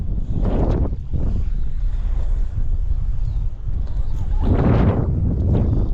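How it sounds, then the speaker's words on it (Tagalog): Strong wind buffets the microphone in heavy low rumbling gusts, with a brief voice mixed into the roar. "Taas ng hangin"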